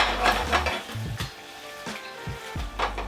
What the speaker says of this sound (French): on va terminer la cuisson des pâtes sur le fourneau. Donc, détourne et retourne. On enrobe le tout.